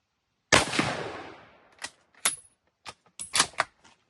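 A single loud, close rifle shot with a ringing, decaying tail, followed by several sharp metallic clicks and clacks as the action is worked.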